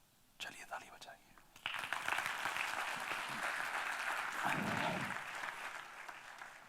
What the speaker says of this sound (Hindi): चलिए ताली बजाइए।